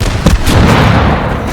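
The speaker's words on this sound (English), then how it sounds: "And rocket cannon!" A rocket cannon fires in the VR shooter game H3VR, a single heavy, loud blast with a booming rumble that rolls on and fades over about a second.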